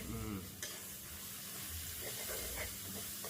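Oil sizzles and crackles steadily as dried fish fries in a pan, with occasional stirring noises close by.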